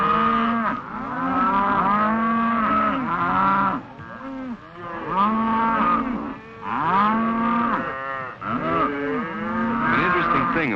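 A herd of cattle, cows with their calves, moos loudly in overlapping, drawn-out calls that rise and fall in several waves, close by and filling the whole stretch, with no talking.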